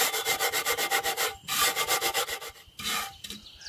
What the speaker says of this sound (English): take a raw potato, half a potato, scrub that into the pores. Scrub that into the pores of the iron